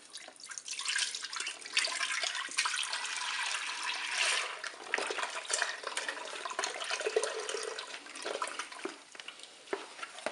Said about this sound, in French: Je verse le lait dans la cuve.